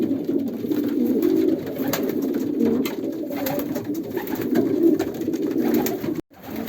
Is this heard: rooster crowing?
no